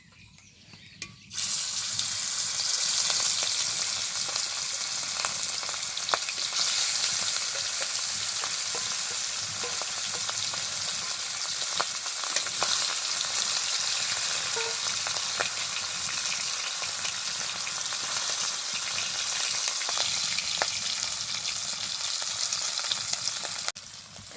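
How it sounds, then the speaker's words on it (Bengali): Fish fry in hot oil in a pan, with a loud, steady sizzle that starts suddenly after a quiet second and hisses on close and unbroken, with a few faint clinks. "এবার বাকি মাছগুলো ভেজে নেব।"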